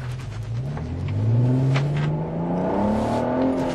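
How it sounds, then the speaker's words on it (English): A VR6 car engine revs up with a rising, whirring pitch, holding strong and close, then eases slightly while still running. "Go, little VR6, go! Make the noise and none of the speed."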